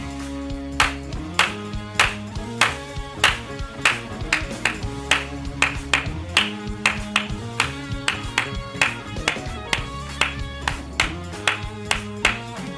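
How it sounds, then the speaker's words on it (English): Rhythmic clapping sounds over a bright musical backing, with sharp evenly spaced claps landing on a steady beat throughout, like a radio station jingle or drive-time intro, with faint singing underneath. "Because you heard that clapping."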